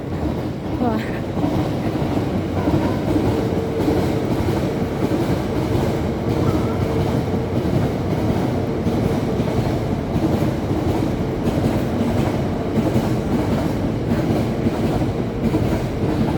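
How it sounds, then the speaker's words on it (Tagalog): A train runs along a railway track beside a running route, a loud continuous rumble of wheels and cars with faint clattering, heard close by throughout. "Daanan ng train."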